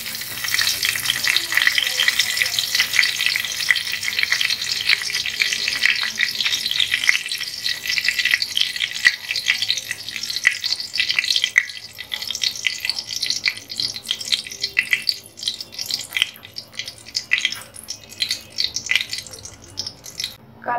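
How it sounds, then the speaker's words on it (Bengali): Black cumin seeds and a torn bay leaf frying in oil in a village kitchen, a continuous close hiss and sizzle with occasional crackles and stirring, gradually settling quieter toward the end. "কালো জিরা আর তেজপাতাটা অনেকটাই ভাজা হয়ে গেছে"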